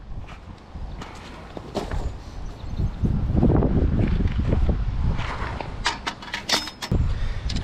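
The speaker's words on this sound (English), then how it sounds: "Definitely windier today." Gusty wind buffets the microphone beside a Wisconsin river on a walleye fishing trip, a steady rushing roar that swells in the middle, with a few footsteps and light rustles mixed in.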